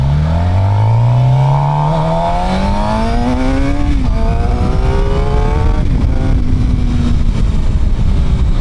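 A Suzuki GSX-R 750 motorcycle engine pulls hard on a ride, loud and close, rising in pitch through the gears with brief drops at each shift.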